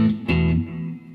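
Electric guitar power chords through an amp with a little delay, a held chord followed by a fresh strum whose sound lingers and repeats faintly as it fades.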